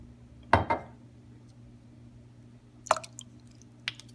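A tablespoon of soy sauce goes into a tri-tip steak marinade: two short liquid splashes and drips close up, then quiet, then a couple more brief drips, with no talking.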